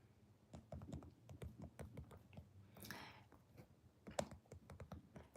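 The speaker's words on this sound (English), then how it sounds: "I have to literally type the responses in." Quick, irregular clacking of fingers typing on a computer keyboard during a live stream, soft and close, with a brief rustle in the middle and one sharper key strike near the end.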